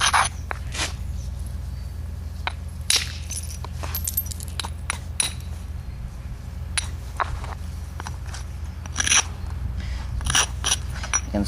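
Antler preform platform edges ground with a hand abrader during flintknapping, a steady run of light scraping and clicking strokes at close range, irregular in rhythm over a low background hum.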